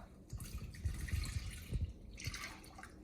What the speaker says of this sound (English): So now we add our milk